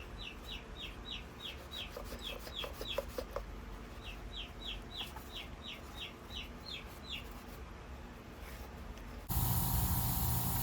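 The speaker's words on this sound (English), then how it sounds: "a dose of brake cleaner." Brake cleaner is sprayed onto a Stihl chainsaw: a sudden loud hiss bursts in near the end, after a stretch of quiet background with distant bird chirps.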